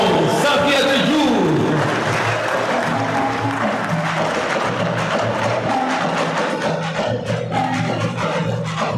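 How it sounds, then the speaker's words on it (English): An audience applauds at a mayor's launch event, with steady clapping and crowd noise throughout. Voices and music carry on underneath. "a round of applause for our very own Safiatou"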